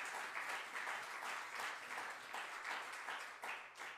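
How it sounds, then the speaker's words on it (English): A church congregation claps in praise, a faint, steady patter of many hands sounding from across the room with no voices over it. "Now give him a hand clap of praise because he alone is worthy."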